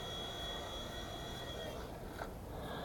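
A WL Toys V911-pro four-channel RC helicopter flies at full throttle with its battery running low, giving a steady, fairly faint high whine of motor and rotor that dips slightly near the end, with no talk.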